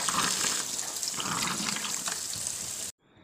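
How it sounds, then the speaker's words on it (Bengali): Drumstick leaves are washed under running water, a steady splashing rush of moderate loudness that stops abruptly just before the end; no speech. "তো এইবার গোটাই ধুয়ে নেবো শাকগুলোকে"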